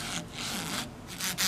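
Steady rasping scrapes of sandpaper hand-sanding a scratch awl, broadband and continuous with brief pauses between strokes, close to the microphone.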